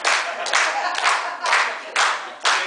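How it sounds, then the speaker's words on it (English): An audience at a live music performance clapping along in rhythm, a steady pattern of bursts roughly every half second, fairly loud and close, with no talking. "Go clap with me."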